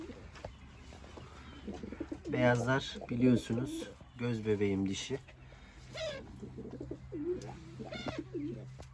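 Pigeons coo softly nearby, their low throaty calls overlapping with someone speaking.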